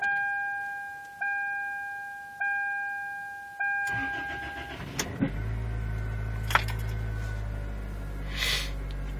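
A 1998 Chevy Prizm LSi is cold-started at 33°F: a few repeating warning chimes, then a brief crank that catches into a steady idle, close and clear, with a couple of small clicks.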